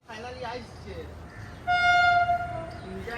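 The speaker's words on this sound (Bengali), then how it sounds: "6:05 ট্রেনটা বাঁকুড়া স্টেশন ঢুকছে" A train pulls into Bankura station and sounds a brief, loud horn toot midway, with people talking around it.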